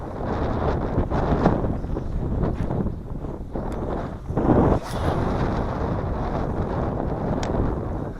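Steady wind gusting across a lake during a fishing outing, a continuous broadband rush with a few stronger buffets against the microphone and no talking.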